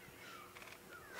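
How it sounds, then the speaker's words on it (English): Grey go-away birds call in the Sabi Sand wilderness with faint, nasal, drawn-out cries repeated a few times over a quiet outdoor background. "I can hear the grey go-away birds calling, go away, go away."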